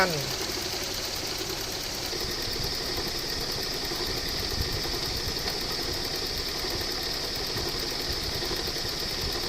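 A car air conditioning compressor runs in a Toyota AE110, giving a steady, even mechanical whir and hum that holds at constant loudness throughout.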